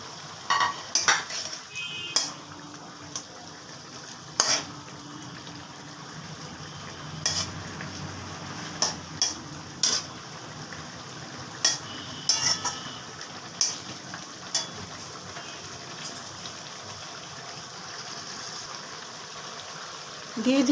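Pieces of katla fish simmering in a bubbling gravy in a pan, a low cooking hiss under intermittent clinks and scrapes of a utensil against the pan, close and quiet.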